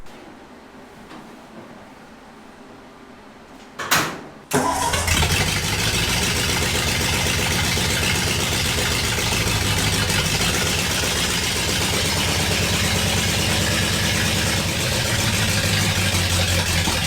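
A traditional Ford hot rod engine cranks and catches, then settles into a loud, steady rumbling idle that runs on without a break.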